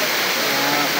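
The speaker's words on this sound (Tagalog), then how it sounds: "So as you can see here, this is a Kabuanga Falls." Cabuanga Falls, a waterfall in Barangay Villa Paz, El Nido, giving a dense, steady, loud rush of water over the full second.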